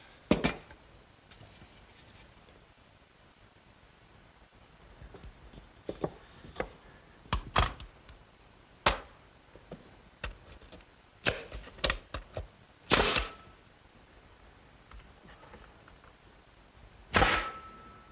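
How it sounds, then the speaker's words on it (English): Six-penny galvanized finish nails are driven into wooden slats of a garden swing platform, a series of sharp, close hammer strikes spaced irregularly with quiet gaps between. "I'll nail them in place with some 6-penny galvanized finish nails"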